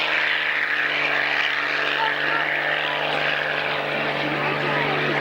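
A Buffalo transport aircraft passes at the 1996 Middle Wallop air show, a loud, steady propeller-engine roar that holds for several seconds, with a commentator's voice over the noise.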